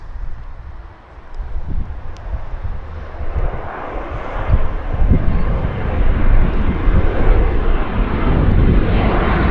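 A Porter Embraer airliner passes at Vancouver YVR airport, a broad roar of jet engines building from moderate to loud and holding strong, with some wind rumble on the microphone.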